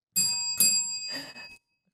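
A small hand bell rings in three bright, quick strokes indoors, each with a short shimmering tail, then quiet.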